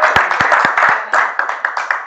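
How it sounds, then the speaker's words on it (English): A small conference audience at a blockchain event gives a speaker a short round of applause: a handful of distinct, close claps in an uneven rhythm, thinning out after about two seconds. "And our first speaker, Victoria, small applause for her, please."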